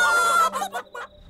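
Short nasal honking calls from fowl, a few bursts close by, with a brief thump at the end.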